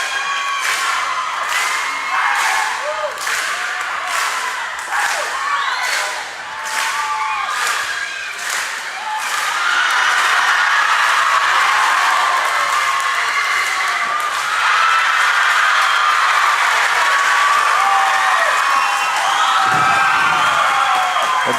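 A weightlifting event crowd roaring with cheers and whoops, preceded by rhythmic unison clapping that builds into sustained loud cheering in a large arena.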